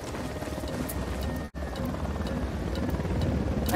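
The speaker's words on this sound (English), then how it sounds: "Helicopter inbound." A helicopter arrives in the shooter game Ghost Recon Wildlands, a steady rotor drone and engine rumble that holds throughout, broken by one abrupt silent gap near the middle before resuming, with no speech over it.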